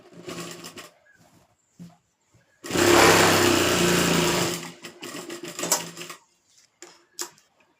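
A sewing machine stitching salwar fabric runs in one steady, loud whirring burst of a couple of seconds, framed by quieter handling clicks and cloth rustles close by.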